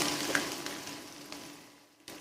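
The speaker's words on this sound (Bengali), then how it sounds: "পেঁয়াজটা হালকা গোল্ডেন ব্রাউন হওয়া পর্যন্ত আমরা ভেজে নিব।" Chopped onions sizzle steadily in a hot pan, a close, hissing fry with a few soft stirring knocks that gradually quiets.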